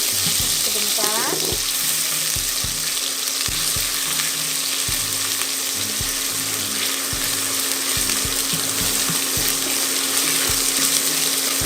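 Garlic ginger paste sizzling in a hot pan while being stirred, a constant close frying hiss with rhythmic scraping strokes of the spoon repeating throughout.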